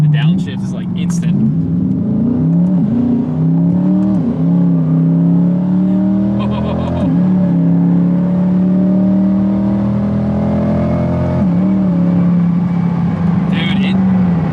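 A 900 hp twin-turbo V8 C8 Corvette on boost accelerating hard, its loud engine note climbing through the revs and dropping briefly at gear shifts, heard from inside the car with people talking over it.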